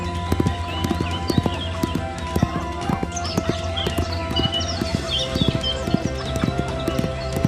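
Horse hooves clip-clop steadily and close in a radio drama scene of a palace soldier on horseback, with an even rhythm of hoofbeats over a low ambient bed and no talk.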